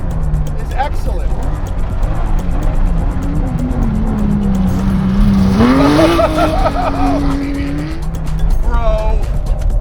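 A Porsche 911 converted into a rear-wheel-drive trophy truck accelerates hard on dirt, its engine rising loudly in pitch from inside the cabin with a brief gear change, while people talk excitedly over it.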